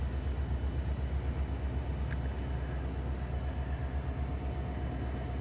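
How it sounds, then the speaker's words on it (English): Steady low rumble of a train idling at a station in Whittier, Alaska, a continuous broadband drone with a brief sharp click midway, no voices. "There's the train that we will be getting on."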